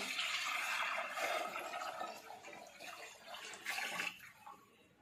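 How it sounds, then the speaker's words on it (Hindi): Water poured into a steamer pot on a kitchen counter before it goes on a gas stove, a splashing, gushing pour that churns for a few seconds and then tapers off, near and fairly soft. "ये पानी डाल दिया हम गर्म करने के लेके जा रहे हैं"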